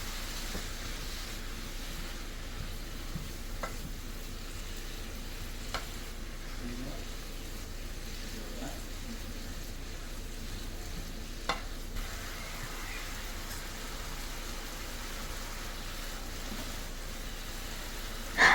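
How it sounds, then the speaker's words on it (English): Quiet, steady sizzling of jicama with soy sauce and water being stir-fried in a hot pan, with occasional soft scrapes and taps of a utensil. "Keep stir frying."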